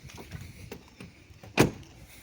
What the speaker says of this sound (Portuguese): Escutaram aí a batida de porta como é?